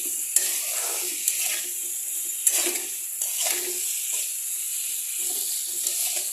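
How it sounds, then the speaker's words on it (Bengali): Garlic stirred and fried in a pan while cooking a small-fish curry: a steady sizzle with a spoon scraping and tapping the pan at irregular intervals, close and alone. "এখন এই রসুনটাকে দিয়ে আমি একটু ভালো করে নেড়ে নেব"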